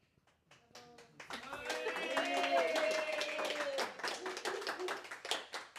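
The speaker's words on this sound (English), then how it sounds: "Massive round of applause" Audience applause for Hayley, a speaker at a business success event: scattered sharp hand claps rise into a steady round, with a voice talking loudly over the middle of it before the clapping thins toward the end.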